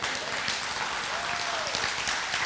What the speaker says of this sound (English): Yeah, you're welcome to clap about that.